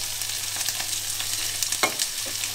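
Garlic and green asparagus frying in a pan, with a close, steady sizzle and crackle, plus a few stirring clatters and scrapes over about three seconds and no speech.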